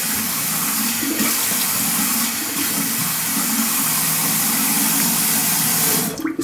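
Tap water runs steadily from a bathroom faucet while shaving cream is rinsed from a face after a Gillette Platinum shave, a continuous close splashing wash that cuts off abruptly at the end.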